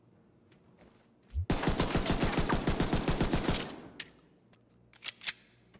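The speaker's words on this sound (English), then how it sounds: "Spamik actually gets the 93R, letting him burst out with pistol." A 93R pistol in a video game fires in a rapid run of about a dozen sharp shots lasting roughly two seconds, loud and close, with a few isolated clicks and thumps before and after.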